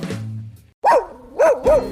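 Dog barking in a radio advertisement, three loud, close barks in quick succession after a short stretch of other sound.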